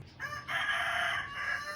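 A rooster crows in a home garden, one loud nearby cock-a-doodle-doo call rising and holding, preceded by a short clucking note.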